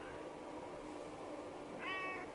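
A single short, clear cat meow arrives near the end after a stretch of quiet room noise.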